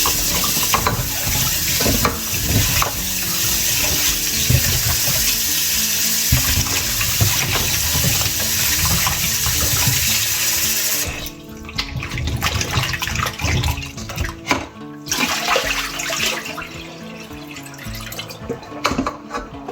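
Tap water runs steadily and loudly into a sink while apples are washed, splashing and sloshing continuously, then turns choppier and intermittent as the flow is interrupted by handling.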